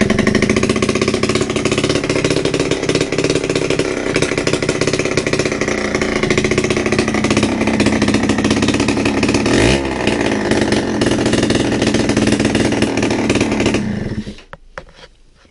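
Nitro scooter engine with its exhaust pipe removed revs loud, harsh and close, a continuous raspy buzz for about fourteen seconds that cuts off abruptly near the end.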